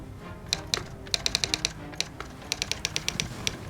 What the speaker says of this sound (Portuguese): Tem aquele som vintage de máquina de escrever